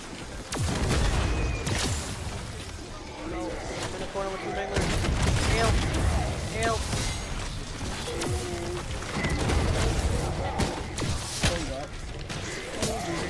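A Mangler weapon fires in a round 100 boss battle at Liberty Falls in Call of Duty Black Ops 6 Zombies, amid dense, loud bursts of gunfire and booming blasts, with people talking over the din.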